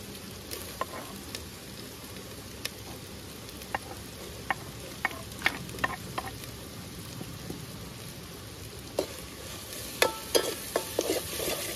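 Tomatoes added to a frying pan for veg biryani at a riverside campsite, giving a steady soft sizzle with scattered clinks and stirring scrapes that grow busier toward the end, with no talking.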